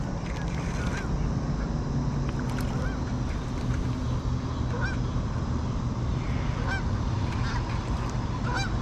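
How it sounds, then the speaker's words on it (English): Canada geese honk repeatedly at a park landing on the water, a dense flock of overlapping calls at mid-distance over a constant rushing background noise. "Said the Canada geese."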